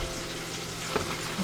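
Chicken wings fry in hot oil with a steady, low hiss and a couple of faint pops or clinks, close but quiet, no speech.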